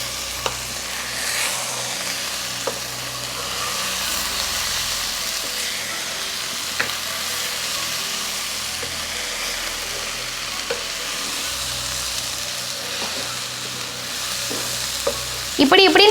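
Prawns and eggs fry together in a pan, a loud continuous sizzle up close with gentle stirring scrapes and occasional utensil taps as the mixture is folded over, no voices.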